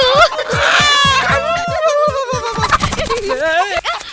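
A chicken squawks and clucks in loud, agitated bursts during a comedy scene, with excited voices and laughter mixed among the calls.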